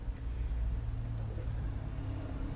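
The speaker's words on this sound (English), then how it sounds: "You can hear that car?" A car passes outside, heard from indoors as a faint, low rumble that holds steady for a couple of seconds.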